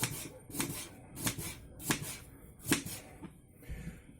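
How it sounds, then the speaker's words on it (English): A knife chops peeled watermelon into small blocks, giving a series of sharp, close chopping strikes at an uneven pace, roughly one every half-second, each with a brief wet crunch. "we've got to cut it up into thin little blocks"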